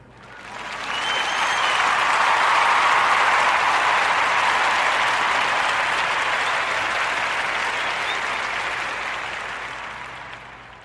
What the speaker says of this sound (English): a warm narrative podcast round of applause for a Super CJ series